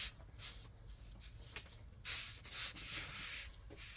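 A sanding sponge rubs over primer on the body of a 2018 Ford Escape during a minor rust repair. The quiet, close, scratchy strokes come back and forth in uneven bursts, with no voices.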